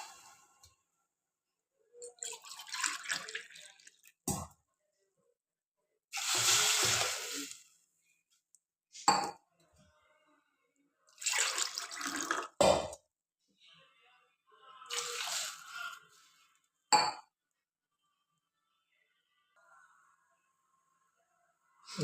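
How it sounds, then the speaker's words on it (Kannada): Water is poured into a hot cooking pot while making vermicelli upma, coming in several separate loud bursts of pouring and splashing with quiet gaps between them. "ಈಗ ಇದನ್ನು ತೆಗೆದು ನಾನು ನೀರು ಹಾಕ್ತೀನಿ"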